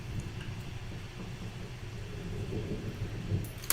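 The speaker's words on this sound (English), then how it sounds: "Ooh, it's thundering outside." Distant thunder outside, a faint low rolling rumble lasting throughout, quiet and without talk.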